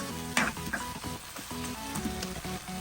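Crushed tomatoes and onions sautéing in a pan with a continuous close sizzle and soft stirring scrapes, plus a couple of brief utensil knocks, no talking.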